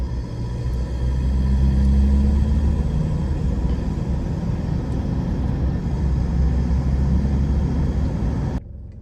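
A car engine accelerating in first gear gives a deep, steady rumble that swells and then holds for several seconds before cutting off abruptly near the end.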